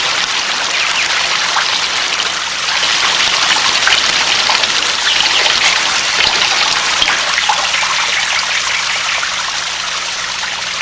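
Water streams out through the small holes of a bottle like a shower, a loud, steady, close hiss of falling water that runs on without a break.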